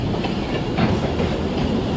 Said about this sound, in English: there's actually a train behind me